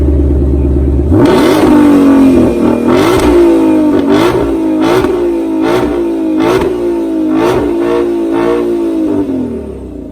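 A 2020 Shelby GT500's powerful V8 engine roars to life and revs hard in repeated bursts, loud and close, settling into a rumbling idle between blips.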